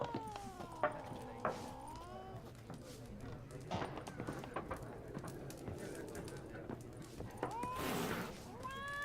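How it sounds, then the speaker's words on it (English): A cat in The Witcher 3 video game lets out drawn-out meows, one early and another near the end, over steady game ambience and occasional thumps. "Cats apparently don't like us either, most of the time."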